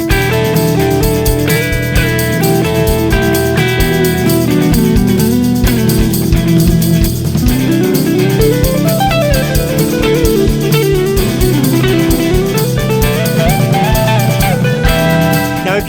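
An electric guitar plays through an amp and a drive pedal set for light gain, dense overdriven chords and bending lead lines ringing loudly and continuously, with no talk.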